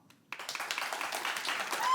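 Audience applause in a live show when the crowd votes by clapping, starting abruptly after a brief quiet and building into a steady patter of many hands, moderately loud and growing toward the end.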